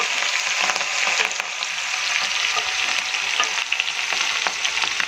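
Chopped garlic and chillies fry in hot oil for a Gujarati green pigeon pea and fresh turmeric curry, making a loud, close, continuous sizzle with light stirring scrapes and no talk.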